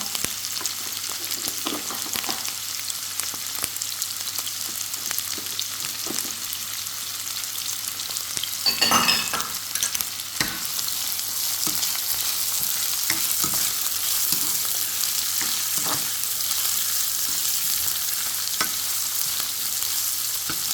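Onion, ginger, green chili and curry leaves fry in a pan with a steady, bright sizzle. Occasional stirring scrapes break through, with one louder burst of crackling midway.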